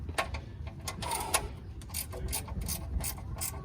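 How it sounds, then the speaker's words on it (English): Ratcheting wrench clicking in quick, irregular bursts while turning a fastener under a 2012 Hyundai Sonata during an oil change, close and moderately loud with a low background rumble. "All right, ratcheting wrench."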